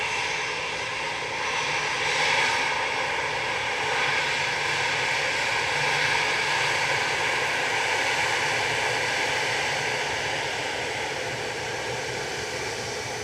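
An EasyJet Airbus A320 Classic at Manchester Airport, its engines giving a broad, steady roar and whine that swells slightly midway, heard from some distance with no voices.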